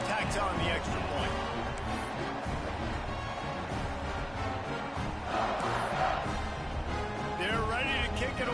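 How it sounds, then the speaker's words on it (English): Stadium crowd in a college football video game, Tulane at Ohio State, a buzzing wash of many voices with occasional louder swells and chatter, steady and moderately distant. "this crowd is buzzing after that last score"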